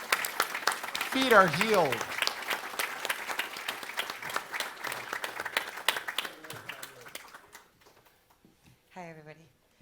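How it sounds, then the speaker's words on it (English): Panel audience gives a big round of applause, loud steady clapping with some cheering that tapers off, while a voice talks over it and then near silence follows. "Give her a big round of applause."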